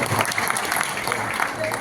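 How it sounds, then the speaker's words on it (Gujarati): Applause from the audience at a BJP gathering of active party members in Wadhwan, a steady wash of clapping lasting throughout, with speech-like sounds mixed in. "તાળીઓથી વધાવો ખેંગારબાને"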